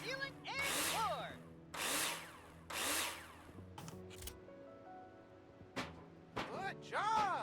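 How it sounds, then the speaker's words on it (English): A power drill driving screws into metal profiles in the Builder Simulator video game, with several whirring bursts separated by short pauses and tonal game sounds in between, at moderate volume. "screw them in with a drill"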